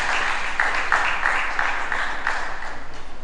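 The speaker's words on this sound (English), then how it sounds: "A round of applause for her, please." Audience applause at a moot court competition session at UNILAG, a steady wash of many hands clapping filling the whole stretch at moderate loudness, with no talk over it.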